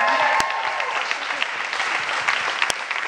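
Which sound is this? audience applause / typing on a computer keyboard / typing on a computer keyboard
audience applause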